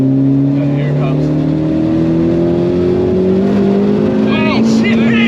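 Turbocharged SEAT Arosa 1.8T 20V with a big turbo, making over 360 bhp, accelerating hard, its loud engine note rising steadily through the revs from close by, with faint voices underneath.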